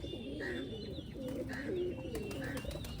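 Pigeons coo softly in repeated low, throaty phrases, with a faint background hum and no talking.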